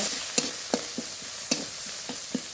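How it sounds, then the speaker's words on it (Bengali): A spice paste of cumin, coriander, dried red chili, salt and turmeric sautéing in a pan with a steady sizzle and a few sharp scrapes of the spatula, roughly evenly spaced. "জিরে ধুনে শুকনো লঙ্কা বাটা লবণ হলুদ গুঁড়ো মশলাটা একটু কষিয়ে নেব"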